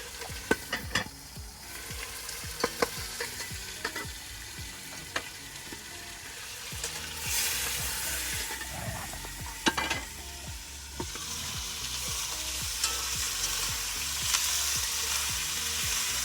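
Garlic and tomatoes fry in a pan for a chicken and vegetable pulao, with a steady sizzle broken by scattered clicks and scrapes of stirring, close and continuous without speech.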